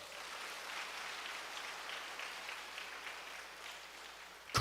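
A church congregation at a summer retreat in Busan, Korea applauding, a soft, steady patter of clapping that sounds somewhat distant and holds even throughout, ending with a sudden louder burst.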